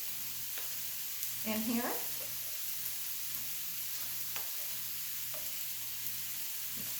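Ground turkey with chili powder, garlic, salt and pepper sizzles steadily in a frying pan while being stirred, with a few faint scraping knocks and a brief spoken word.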